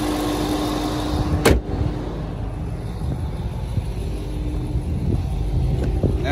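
An Infiniti M56 engine idles with a steady low rumble, broken once by a brief sharp knock or clunk near the start.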